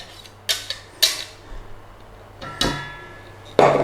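Madras curry paste being mixed with oil in a container, heard as a few separate clinks and scrapes of a utensil against the sides, close and sharp, with quiet gaps between them.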